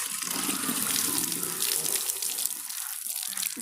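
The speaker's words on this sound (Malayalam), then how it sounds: "ഇനി നമ്മൾ വെള്ളം നിറയ്ക്കാൻ പോകണം." Water pouring from a tap into a plastic bottle for a home science experiment, a steady loud splashing gush that continues without a break.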